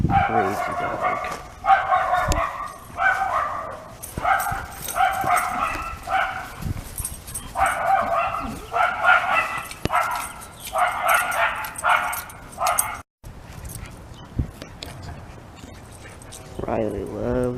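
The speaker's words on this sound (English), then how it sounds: "And a crazy dog." A dog outdoors on a rainy day barks and yips in repeated bursts of short yelps across the whole stretch, fairly close, with people talking in between.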